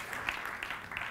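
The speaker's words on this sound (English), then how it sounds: "big generous applause for Nicole Phoebe Tanner." An audience at a science-communication competition semi-final claps in a brief, fairly faint burst of applause, uneven and soft in the distance.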